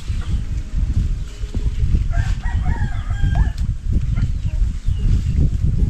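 Rooster crowing and a chicken clucking in a farmyard garden, the crow rising faintly over heavy low rumbling wind or handling noise that runs throughout.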